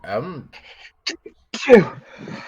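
A single sharp sneeze bursts out mid-conversation among tabletop role-play players, set between stretches of ordinary talk.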